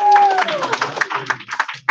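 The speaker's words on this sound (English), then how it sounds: "You can clap for me." A summit audience gives a brief burst of clapping for a speaker taking the stage, short and uneven, mixed with a tone at the start and a voice speaking partway through.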